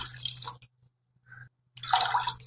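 Two and a half glasses of water pour into a pan to start the sugar syrup for suji halwa: two bursts of splashing, close and fairly loud, separated by a short pause and a faint trickle, over a low steady hum.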